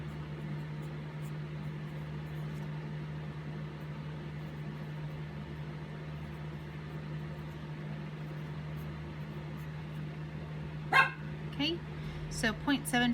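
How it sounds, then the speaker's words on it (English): A pet dog barks a few times near the end, short sharp yaps rising over a steady low indoor hum after a long quiet stretch. "Please don't mind my barking dog."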